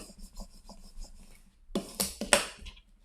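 Vinyl decal being burnished onto an Easter egg sign, quiet rubbing at first, then a few louder rasping scrapes near the end, with no talk.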